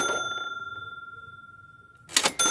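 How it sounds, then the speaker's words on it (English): A toy cash register rings out a bright metallic ding, preceded by a fading tone, then a second quick chime and clatter near the end, close and clear. "playing with his toy cash register"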